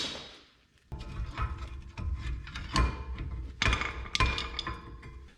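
A 16mm extra-long gear wrench ratchets on a brake bolt of a 2010 BMW E92 328 xi, giving close metallic clicking bursts in several quick runs after a brief quiet start.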